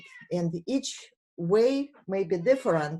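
A house cat meows briefly between a man's spoken sentences indoors, its short call partly masked by the talk.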